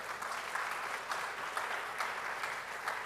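An audience at a university public lecture at KNUST applauds a dignitary, a sustained, even roar of many hands clapping, full and fairly loud throughout.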